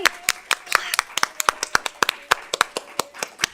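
A few people at a school board public meeting clap in a clear, uneven rhythm of individual sharp hand claps, close and distinct rather than a dense crowd, with faint talk beneath.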